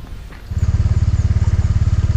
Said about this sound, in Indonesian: Saya akan naik motor menyusuri jalan yang masih baru ini menuju ke area depan sana